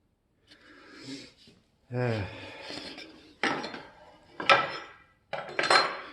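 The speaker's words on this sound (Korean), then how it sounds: "직각 대패질을 했습니다" A hand plane planing a piece of wood square to set up a reference face for a picture frame, heard as several separate rasping strokes, each one louder than the last, with a voice speaking between them.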